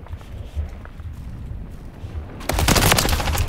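Call of Duty gunfire from an unfamiliar gun: after a quieter stretch with a few isolated shots, a loud, dense burst of rapid automatic fire breaks out and keeps going to the end.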